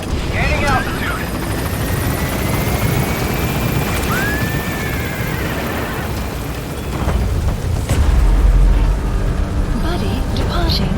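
Helicopter gaining altitude in the video game Metal Gear Solid 5: a loud, continuous rotor and engine roar with a rising whine, growing heavier near the end, while voices talk over it.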